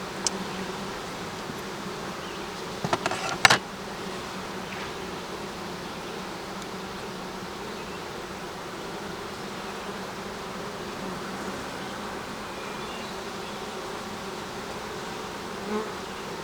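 Honeybees buzz in a dense, continuous drone around open hive frames, close and steady throughout, with a brief knock or scrape early on.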